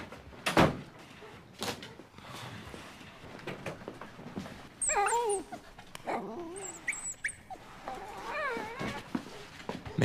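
A dog whimpers in a few high, wavering whines close by, mixed with thumps and a door-like knock, with a voice speaking briefly.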